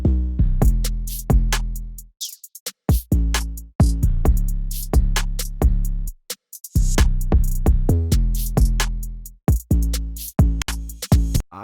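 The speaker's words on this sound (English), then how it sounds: "So the drums all together sound like this." A trap beat plays with deep booming bass kicks, crisp snares, shakers and open hi-hats in a bouncy, syncopated pattern, loud and upfront with brief gaps and drops.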